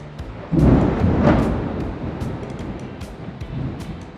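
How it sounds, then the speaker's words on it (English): Rolling thunder with a soft rumbling swell, then a long fading rumble under steady wind or rain noise, heard in Thailand near Hat Yai as the rainy season approaches, with no talk. "It's quite thunderous at the moment."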